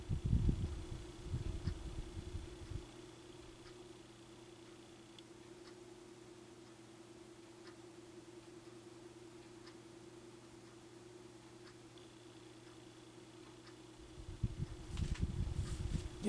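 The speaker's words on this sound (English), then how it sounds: "There you can hear it humming away." A vintage 1940s Hunter Century 12-inch table fan with worn bearings hums steadily at a low pitch, with faint ticking throughout. Bursts of louder rumble come at the start and the end.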